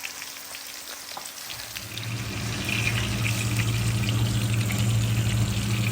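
Steady frying sizzle of salmon in a pan that grows louder and fuller partway through, with faint scraping, close by and no talking.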